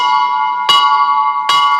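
A school's electric bell rings with a continuous bright metallic tone, briefly interrupted twice by short bursts of noise, loud and near.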